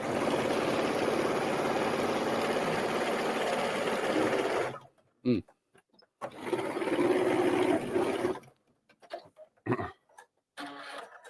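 Up close, a sewing machine runs steadily over fabric scraps for several seconds, stops with a few clicks and handling noises, then stitches again in a second long run followed by scattered taps.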